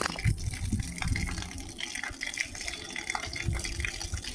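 Backwash water from a water softener gushes out in a continuous, rushing and splashing stream, heard alone at moderate volume.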